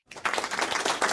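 Recorded applause played back at a talk show's close, a dense wash of many hands clapping that swells in after a brief silence and holds steady to the end.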